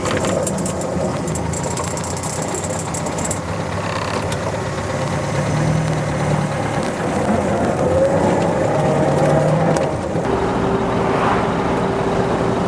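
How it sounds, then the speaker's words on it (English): A 1964 Alvis TE21 drophead coupe on a test drive gives a steady, moderately loud engine drone with road noise, rising slightly partway through and shifting tone near the end, with no talking over it. "we'll take the TE21 out for a test drive"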